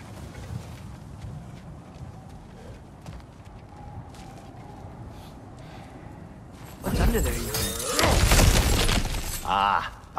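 Cracked ground in God of War Ragnarok smashes apart with a loud, crunching burst of breaking rubble after a stretch of quieter footsteps and character dialogue.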